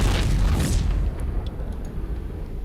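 Protoss photon cannons are destroyed in the StarCraft II real-time strategy game, giving a heavy, booming explosion that rumbles low and then fades into a quieter wash with a few faint crackles.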